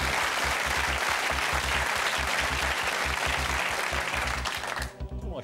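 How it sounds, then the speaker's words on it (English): A television quiz-show studio audience applauds steadily and loudly for several seconds, dense even clapping that cuts off near the end. "Shook's clapping."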